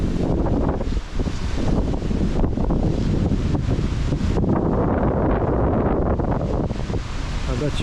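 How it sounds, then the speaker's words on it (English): Steady, loud wind roars and gusts for the whole stretch along a forest hiking trail in the Porcupine Mountains of Michigan's Upper Peninsula in fall, buffeting close to the microphone. "It is a little windy out still."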